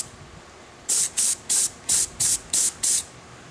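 Duracoat finish sprays onto Ruger 10/22 rifle parts in seven short, loud hissing bursts at a fairly even rhythm after a quiet start, close to the sprayer with no talk.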